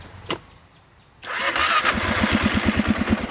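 An engine cranks and fires on its first start after fine tuning. A faint click comes first, then the engine catches suddenly and settles into a steady, close, chugging idle.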